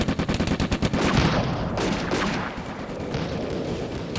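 Artillery and gunfire in the World War II desert combat game Combat Mission: Afrika Korps at Bir Hakeim, opening with a rapid burst of automatic fire followed by a heavy rolling explosion that fades slowly.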